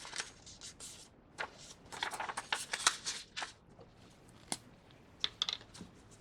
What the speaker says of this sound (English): Fold over the top.